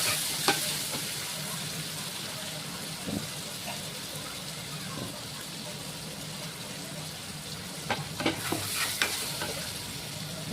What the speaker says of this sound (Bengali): আর আমি এর সাথে আলুগুলো একবার ভেজে নেবো। আলুটা একটু এর সাথে কষিয়ে নেবো।